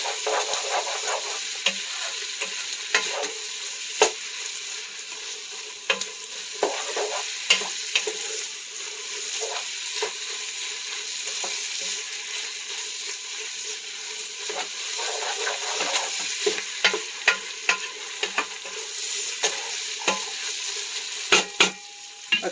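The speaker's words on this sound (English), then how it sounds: "right about now is when I'm going to go ahead and just mix everything up together" Vegetable and beef soup ingredients are stirred in a pot, a soft steady sizzle broken by irregular scraping and clinking of the spoon against the pot, with a few sharper knocks near the end.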